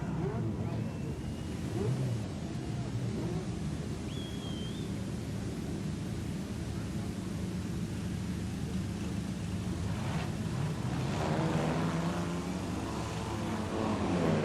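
A wingless sprint car does donuts at Carina Speedway, its engine droning and revving in the distance beneath a track announcer's commentary and crowd noise.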